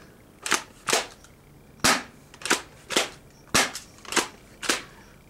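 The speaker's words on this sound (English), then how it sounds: "Just you guys hearing the sound of BBs being hit." Airsoft shotgun firing BBs, seven sharp snapping shots at uneven intervals over several seconds, close and clear with quiet gaps between, no talk.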